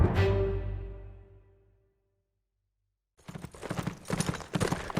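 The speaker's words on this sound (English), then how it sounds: "The horse thunders down London's main street of Cheapside" Hooves clatter as a horse gallops down Cheapside, a medieval London street, a booming impact fading out, then a stretch of silence before a rapid, loud run of clip-clop footfalls.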